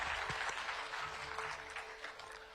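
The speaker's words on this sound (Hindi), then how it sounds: "जोरदार तालियों से बहुत बहुत शुक्रिया" Audience applause at a televised conference event, a steady wash of clapping that carries on evenly from start to end at moderate, slightly distant volume.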